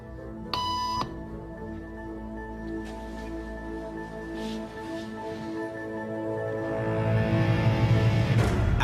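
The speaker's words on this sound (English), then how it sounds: "After just 3 beeps" A single short electronic beep sounds near the start, followed by a sustained steady tone that swells louder toward the end amid faint room noise.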